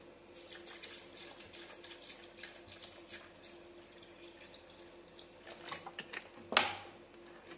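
Water runs from a tap in a home kitchen while a mint and lemon mojito drink is made. The stream is soft and steady with faint splashes, and a sharp clink near the end, with no voices.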